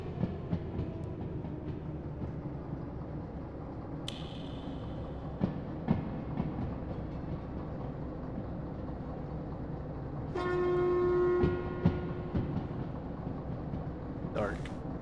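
A train in the Derail Valley railway simulator rolls along the track with a steady low rumble and rhythmic clicking, broken by a few short toots and a longer horn blast. A voice talks over it.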